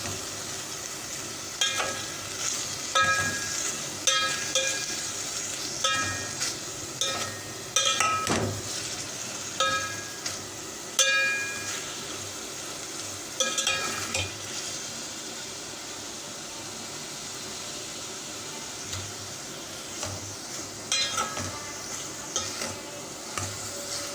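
Chicken masala with chili sauce fries in a pan under a continuous sizzle, while a spoon stirs and scrapes in repeated strokes, occasional utensil clinks, with no speech.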